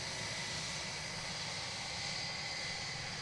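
An American Airlines Airbus A321 jet taxiing at DFW Airport gives off a faint, steady distant engine hum with a hissy whine, unbroken throughout.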